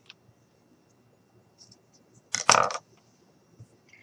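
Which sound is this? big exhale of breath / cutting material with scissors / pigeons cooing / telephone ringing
cutting material with scissors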